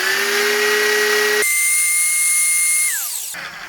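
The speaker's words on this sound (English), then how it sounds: "we're just going to sand the last little bit of the nub off and just make sure it sits flat" A power sander taking the last nub off the base of a woodturned snowman, a steady high whine that shifts pitch as the piece is pressed on, then spins down, loud and close.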